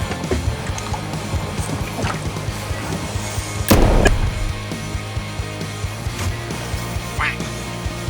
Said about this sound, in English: he's taking aim at these clouds of ducks